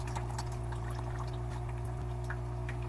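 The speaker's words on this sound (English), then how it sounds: "I'm just gonna rinse this out in the water I'm draining" Dirty aquarium filter media rinsed in drained tank water, a faint splashing trickle and slosh over a steady low electrical hum from nearby equipment.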